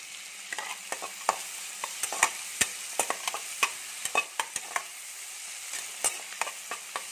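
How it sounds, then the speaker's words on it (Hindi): Onions frying with salt in a pan, a soft steady sizzle broken by sharp scattered crackles and spatter pops, close and fairly quiet with no voices. "थोड़ा सा नमक डालेंगे इसमें, प्याज हमारा जल्दी भून जाएगा।"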